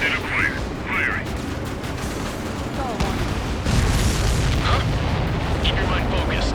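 Missile strike destroying an enemy transport in the Ace Combat 7 jet combat game, a rumbling explosive blast over steady roaring engine noise with sharp whooshing streaks and radio chatter throughout.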